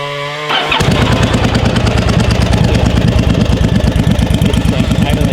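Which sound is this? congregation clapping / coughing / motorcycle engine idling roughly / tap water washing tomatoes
motorcycle engine idling roughly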